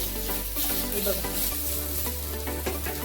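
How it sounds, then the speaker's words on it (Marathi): Coriander, cumin, garlic and green chilli roast in a hot pan, giving a close, steady sizzle with soft crackles and light stirring scrapes. "कोथंबीर जिरं लसूण हिरवी मिरची छानपैकी भाजली गेलेली आहे"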